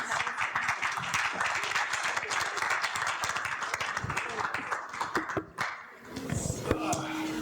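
A live audience applauds the couples on a Q&A panel, with dense clapping mixed with crowd chatter and voices for about five seconds before it thins out and talking takes over.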